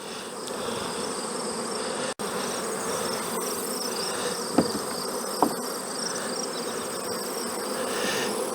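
Honey bees buzz in a dense, steady swarm from a failing colony as they are shaken out of their hive, a continuous close drone with a couple of brief knocks and no voices.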